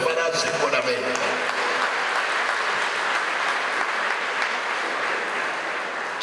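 Applause from an audience at a recovery community event in Italy, a dense, steady clapping that fills the whole stretch at close range, with a brief voice rising over it at the very start.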